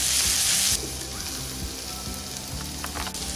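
Minced meat with green capsicum cooks in a covered pan over a low flame, giving a steady close sizzle and hiss with small pops throughout.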